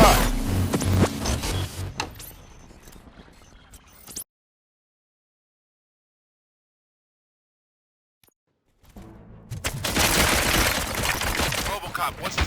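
Gunfire in the video game RoboCop: Rogue City comes in dense, rapid bursts, first fading out into total silence, then returning loud and sustained for the final few seconds.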